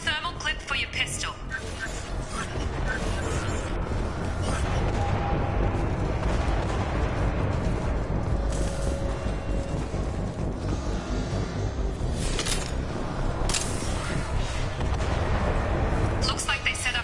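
Canisters explode in Mass Effect amid continuous rumbling combat, with sharp bangs scattered through the din and a voice talking over it.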